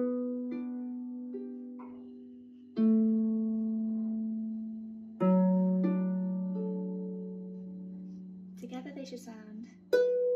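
A Manx harp plays the tune Graih Foalsey with a broken-down left-hand part, plucked notes ringing and sustaining in sparse separate strikes, with a short burst of talk or noise near the end.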